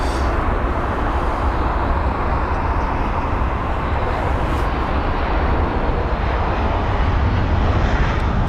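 A 17-year-old Airbus A319 at London Heathrow at sunset, its engines a loud, steady broadband roar that holds without break from start to finish.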